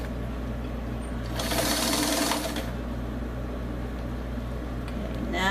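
A sewing machine stitches a bold, bright floral dress panel, running steadily nearby with a quick rattling hum, speeding up in a louder burst partway through before settling back to a quieter whir.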